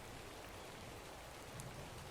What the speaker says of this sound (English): Rain is so calming.